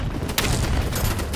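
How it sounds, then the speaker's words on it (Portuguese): A grenade explodes in the online shooter Battlebit, a sharp blast rising out of steady, close gunfire that keeps rattling throughout. "Ó a granada lá."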